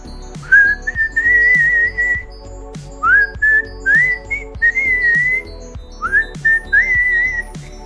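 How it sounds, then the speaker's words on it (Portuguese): Someone whistles a melody alone, clear bright phrases with rising slides, pausing briefly between lines of the tune. "o assobio, ele é um instrumento musical"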